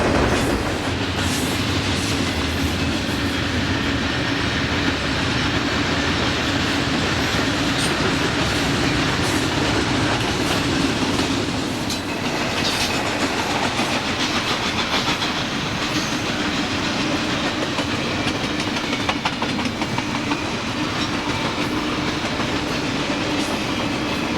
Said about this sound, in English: There are foreign containers on this train.